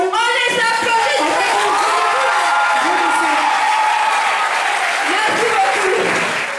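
A school audience applauds the classes at a French youth journalism award ceremony, a dense sustained wash of clapping with some cheering and children's shouts, loud and continuous throughout.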